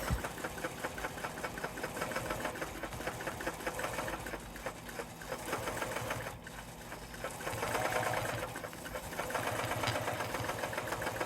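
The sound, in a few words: long arm quilting machine basting a quilt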